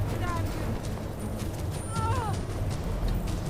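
Horse hooves clip-clopping in the fantasy video game Skyrim, a steady patter under game ambience with a brief whinny-like call in the middle, while a person talks over it.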